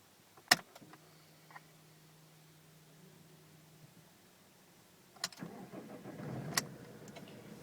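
An Alfa Romeo Giulietta Veloce 2-litre diesel cranks briefly and then settles into a quiet, low idle heard from inside the car, with a few clicks and rustles.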